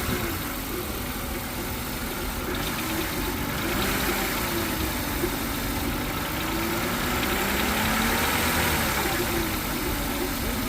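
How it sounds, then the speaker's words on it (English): A BMW car engine with a head gasket problem, given a little gas so that the steady mechanical drone rises and falls slightly in a gentle rev, loud and close throughout. "I'm gonna have him give it a little gas."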